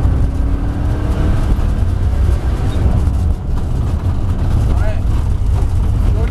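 A loud, sustained car engine roars at full throttle on a circuit lap at Château de Lastours, steady and close, with a voice talking over it.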